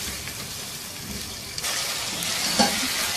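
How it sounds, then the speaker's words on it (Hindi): Chicken pieces frying in a pan give off a soft, even sizzle with faint stirring clinks, a low steady hiss throughout and one small sharp knock near the end. "इस चिकन को इतनी देर तक पकाएंगे कि इसकी रंगत तब्दील हो जाए"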